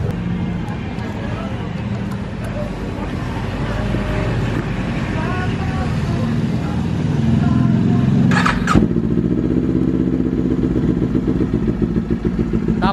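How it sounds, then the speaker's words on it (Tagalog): A Kawasaki Ninja 400 engine runs at a steady idle, a continuous loud burble close by, with a brief clattering burst and a slight rise in revs midway; someone talks briefly over it. "ang gagawin naman natin ngayon is papanda rin natin yung motor"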